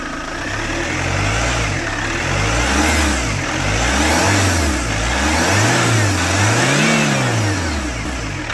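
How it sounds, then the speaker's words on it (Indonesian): A Chevrolet Captiva diesel engine with heavy pull and smoky exhaust revs repeatedly, its pitch rising and falling in steady waves over a loud, close mechanical rumble. There is no speech. "Coba gas Sun."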